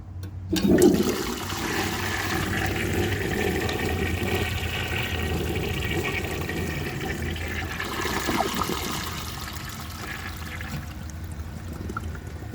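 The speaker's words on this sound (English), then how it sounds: "This toilet has a really long flush, so I'm expecting it will do perfectly." A 1930 Eljer Sanus toilet flushes with a dry bowl, a long steady rush of water heard up close that starts with a gurgle, keeps going for over ten seconds and eases slightly near the end.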